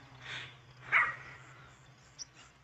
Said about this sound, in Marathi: सकाळी सकाळी भांडणं चालू झालेत कुत्र्याची.